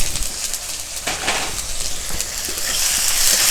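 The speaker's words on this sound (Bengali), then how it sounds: "টমেটো ভালো করে একটু ভেজে নেব" Tomatoes and slit green chillies fry in a pan for a silver carp curry, making a loud, steady hissing sizzle with a few scraping stirs. The sizzle grows slightly brighter toward the end, and no one speaks.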